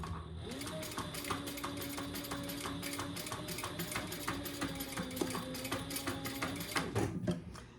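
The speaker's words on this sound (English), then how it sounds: "let's top stitch that" A sewing machine top stitches a swivel clasp tab on a crossbody bag, with a steady rapid mechanical chatter running throughout and a slight hitch near the end.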